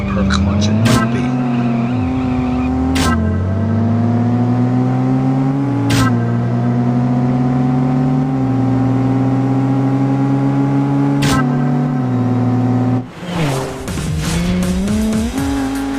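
Mercedes-Benz in the CSR Racing game, engine loud and close as it revs through rising gear pulls, short shift gaps, then a final burst of revving with tire squeal near the end.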